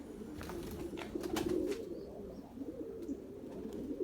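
Young pigeons just starting to fly coo steadily in a loft, a low continuous murmur of overlapping calls with a few sharper flutters and bumps, close and moderately loud throughout.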